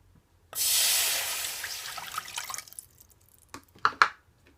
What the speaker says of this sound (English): here I have a pot on the stove, and I'm gonna put some water in there, around 1/4 cup of water